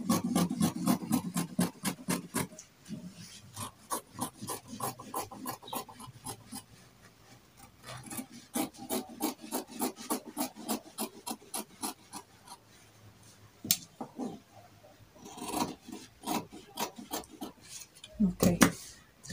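Scissors cutting through dress fabric, a steady run of crisp snipping strokes in rhythmic bursts with short pauses between them, close and fairly quiet, with someone talking at times.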